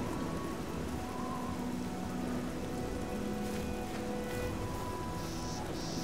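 Steady rain in The Elder Scrolls IV: Oblivion hissing down without a break, a dense wash of patter, with a few faint tones and a brief whistle-like sound near the end.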